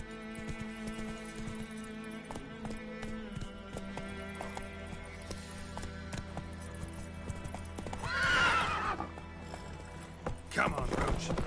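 Roach the horse from The Witcher 3 runs with steady rhythmic hoofbeats, a whinny rising near the end, over game music and ambience.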